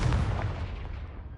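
A Confringo blasting spell from Hogwarts Legacy goes off as a single deep, booming explosion up close, then fades into a short rumbling tail.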